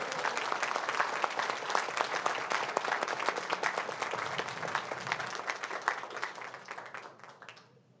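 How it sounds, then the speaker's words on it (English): Sustained applause from an audience at a school district governing board meeting honoring students, dense steady clapping that thins and fades out near the end. "Now a huge round of applause for all of our astounding students"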